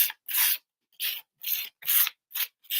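Gritty texture paint is rubbed and sanded onto paper in short, rhythmic rasping strokes, six bursts with brief silences between, close and crisp.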